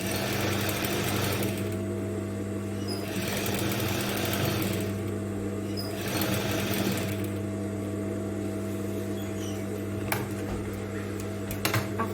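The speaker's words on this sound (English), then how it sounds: "Top stitch on the facing area." A sewing machine top stitches the facing area of a v-neck top, running as a steady mechanical hum with a continuous rapid needle rhythm and slight pulsing, close by and alone.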